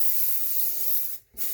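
A can of hairspray hisses in one steady burst over curled, wavy hair, close and crisp, then cuts off abruptly near the end before a brief trailing hiss.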